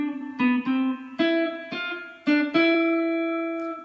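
Electric guitar plays a film theme with two-handed tapping, a right-hand melody of bright, ringing plucked notes struck singly in an uneven rhythm, each left to sustain and fade, played alone and close.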